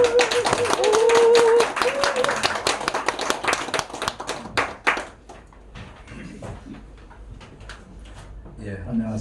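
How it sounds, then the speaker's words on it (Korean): A Korean church lecture audience gives a hearty round of clapping to welcome a lawyer to the stage, loud at first and then thinning to scattered claps, with a voice speaking over the start. "이 시간 강사님 모실 때 힘찬 박수로 모셔주시길 바랍니다."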